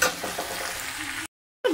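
Egg curry masala sizzles and is stirred in a pan, a short burst of frying crackle that cuts out abruptly and resumes.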